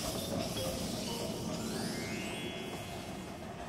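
Train rolling along railway tracks as a steady, continuous rumble with faint clinks and hiss, fairly close and even throughout, with no voices.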